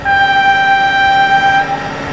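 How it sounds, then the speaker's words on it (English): A train horn sounds loud and steady with sustained harmonic tones, holding for about two seconds before fading slightly, alongside the rumble of a passing train, near a monster truck and flatbed trailer car rescue scene. "Oh my god, train!"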